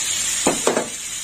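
Tomato paste hits hot oil in a pan while cooking mocha chicken, giving two short bursts of sizzling hiss, then a steady low background sizzle.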